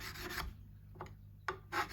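A crowning file rasps against the metal frets of a Squier Classic Vibe guitar in a few short, quiet strokes with brief pauses between them, and no one speaks.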